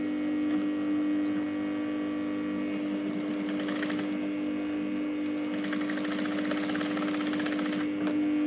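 A sewing machine stitches a sleeve, its motor running a continuous steady hum with a rapid mechanical stitching rhythm that grows busier in the middle and near the end, with no talking.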